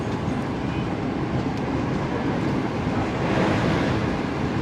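Pak Business Express passenger train rolling on the rails after leaving Sahiwal railway station, a steady, loud rumble and rush of wheels and wind that holds constant throughout, swelling slightly near the end.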